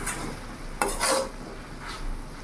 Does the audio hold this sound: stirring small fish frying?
yes